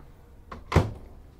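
An RV microwave door pops open with a single close thunk and a short click before it, then quiet.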